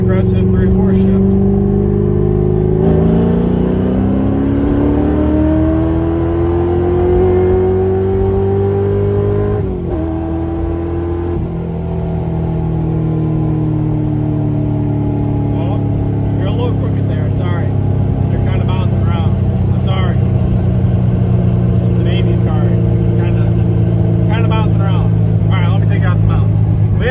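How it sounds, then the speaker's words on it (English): A car fitted with a TREMEC TKX manual transmission makes an aggressive 3-to-4 upshift, its loud engine rising in pitch, dipping briefly at the shift, then pulling steadily again in the next gear, close and continuous. "So let's try a somewhat aggressive 3 to 4 shift."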